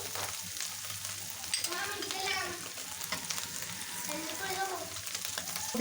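Onion flowers fry in a pan with hilsa roe, a steady moderate sizzle with intermittent stirring scrapes, close and without talk, slightly louder near the end.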